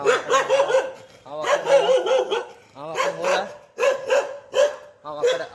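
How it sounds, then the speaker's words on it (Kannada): A dog barks loudly and repeatedly nearby, in quick clusters of barks separated by short pauses. "ನಾಯಿ ಏನೋ ಒದರಾತತ್ ನೋಡಿ"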